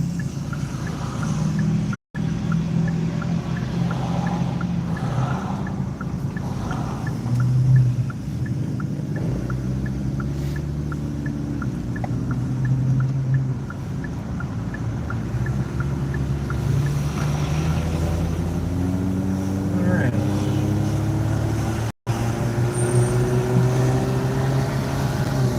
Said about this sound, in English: Damn, that car is loud.